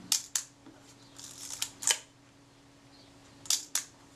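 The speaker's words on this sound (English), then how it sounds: "And the shutter release works nicely too" Shutter release of a Kodak Retinette IIB 35mm camera under service, sharp close mechanical clicks in irregular pairs and singles, about eight in all, with quiet pauses between and no talking.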